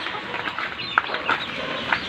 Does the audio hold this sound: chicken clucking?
yes